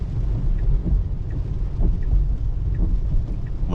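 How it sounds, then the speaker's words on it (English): Deep thunder rolls with steady rain heard from inside a Tesla driving on wet roads, a loud continuous low rumble under the patter of rain, with no voices. "Hear the thunder rolling in the background."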